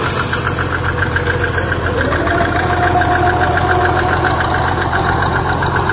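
A diesel engine running on bad diesel fuel idles loudly and close, with a steady knocking rhythm over a continuous low rumble and no talk.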